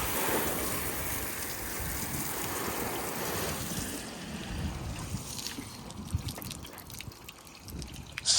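A water hose rinsing soap off a Dodge Challenger SRT, a continuous close spraying hiss and splatter of water on the car's body, fairly steady with slight changes in intensity as the spray moves.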